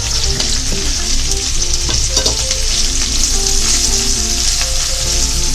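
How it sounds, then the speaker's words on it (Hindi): Garlic, carrots and capsicum sautéing in a pan for chicken chowmein, a loud, continuous close-up sizzle with scraping stirs throughout. "यहाँ हम नमक डालेंगे, यहाँ हम लहसुन डालेंगे और सौते करेंगे।"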